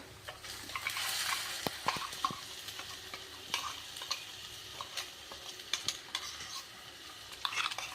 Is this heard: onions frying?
yes